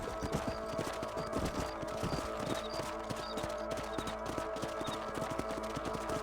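Horse hooves clip-clop at a steady gallop while riding in the Red Dead Redemption video game, with rhythmic repeated thuds over a constant outdoor background and faint bird-like chirps.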